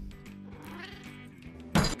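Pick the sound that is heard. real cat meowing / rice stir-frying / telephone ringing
real cat meowing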